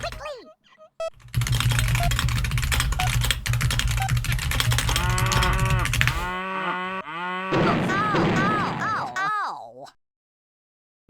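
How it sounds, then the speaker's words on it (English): Cows moo in a video game during the CWT 2025 grand final. Several drawn-out, wavering moos come close and loud after a stretch of rapid keyboard typing and background noise, then stop abruptly into silence. "Very nice cows there."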